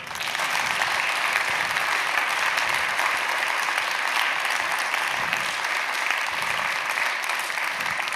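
Steady, full audience applause at the Obermayer Awards ceremony after a certificate presentation, a dense even wash of clapping from a large crowd sustained throughout.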